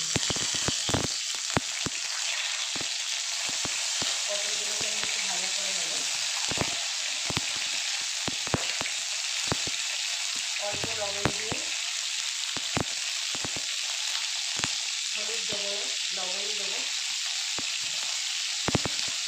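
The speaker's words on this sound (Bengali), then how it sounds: "তেল গরম হয়ে গেছে আমি পটলগুলোকে দিয়ে দেবো" Pointed gourd (potol) fries in hot oil at medium heat, giving a steady close crackling sizzle broken by sharp spatters, with a voice speaking faintly at moments.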